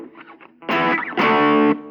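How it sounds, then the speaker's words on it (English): Electric guitar power chords through a loud overdrive, heard as two thick, sustained distorted strums after a few quieter picked notes, played alone with no talking. "then we go to the loud overdrive section"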